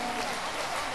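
Applause from a crowd at a Christian crusade gathering, a brief steady wash of clapping throughout.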